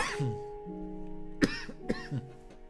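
Several sharp coughs come in quick bursts, close by, with a steady low hum underneath.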